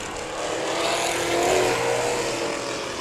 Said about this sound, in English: This is my first time ever seeing these cars run an oval.